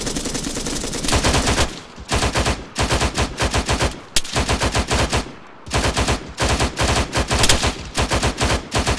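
Rapid bursts of automatic gunfire rattle in a Power Rangers Power Up video game, loud and close, in several long volleys broken by short pauses.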